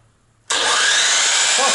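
A miter saw powered by an 8000-watt inverter starts up abruptly after a quiet moment, then runs with a loud, steady whine to the end.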